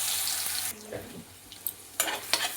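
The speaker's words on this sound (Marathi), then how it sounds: "याच तेलात आता आलं लसूण पेस्ट टाकायची." Ginger garlic paste dropped into the hot oil left from frying paneer, a steady sizzle and hiss followed by a few soft clinks and stirring scrapes in the pan.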